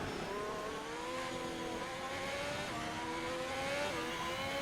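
A Formula 1 car in the F1 2021 racing game, engine note falling and shifting as it brakes hard, steady loud synthetic motor whine with downshift steps, alone without talk.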